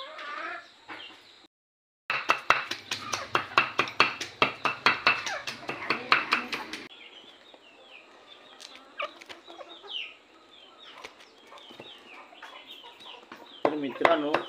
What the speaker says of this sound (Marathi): कशा कोंबड्या आवडीने खातात ते।